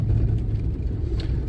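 Steiger tractor engine pushing uphill, a brief steady low diesel rumble, close and continuous with no voices.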